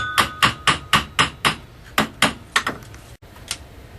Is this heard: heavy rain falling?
no